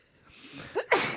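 A single close sneeze comes with a sharp intake of breath and then a forceful burst, heard alone in a quiet room.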